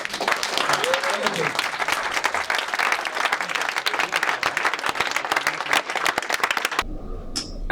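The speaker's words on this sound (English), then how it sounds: "So I want a round of applause for the organizers." A hackathon audience breaks into loud, dense applause for the organizers, many hands clapping steadily for nearly seven seconds before it cuts off abruptly into a quieter room.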